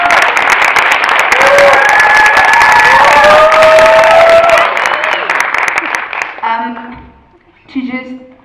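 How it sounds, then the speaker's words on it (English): Loud, sustained audience applause and cheering with whoops and shouts at a Tulane cultural day for Mandela Washington Fellows, tapering off near the end as a voice begins to speak. "Can I please get a round of applause?"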